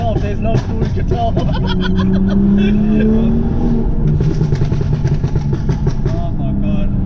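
A straight-piped 400bhp BMW F32 435i roars close by with loud, sharp revs that climb and fall repeatedly, a raw exhaust rasp crackling between blips, with voices talking over it.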